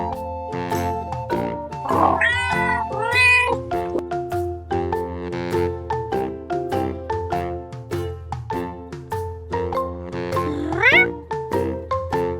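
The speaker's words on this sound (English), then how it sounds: "A cat is stuck in the tree." Cartoon cat meowing from up in a tree during a fire-and-rescue story, a few rising, clear meows standing out over steady background music, fairly close and moderately loud.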